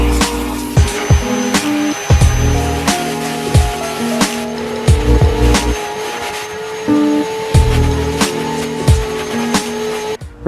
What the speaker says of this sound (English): we're going to give it a quick little vacuum